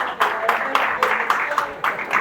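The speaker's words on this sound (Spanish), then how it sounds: "Un aplauso para nuestro baterista," A church congregation applauds their drummer with rhythmic, evenly spaced clapping at a moderate level, and a voice talks over it.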